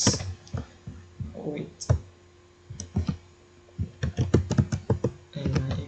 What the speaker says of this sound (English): open your browser again and type your server's IP address